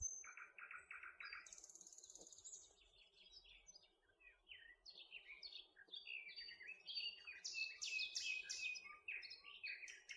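Seagulls call beside a river on an autumn fishing trip, a series of sharp, scattered cries and chirps against a quiet outdoor background, with no voices.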